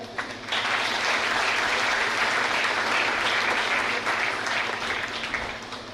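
Steady audience applause at a nursing institute's lamp lighting and oath ceremony, a sustained wash of many hands clapping at moderate distance that holds evenly for several seconds.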